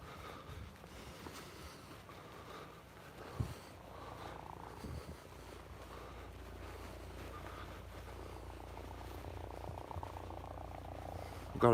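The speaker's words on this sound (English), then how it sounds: "I've got an helicopter buzzing about." A low, steady rotor drone hums throughout, fairly faint and distant, with occasional bumps and a voice briefly audible.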